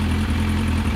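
A fuel-injected Kawasaki ZX-11 motorcycle engine idles with a steady, even low hum and no voices over it.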